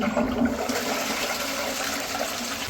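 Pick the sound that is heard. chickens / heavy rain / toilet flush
toilet flush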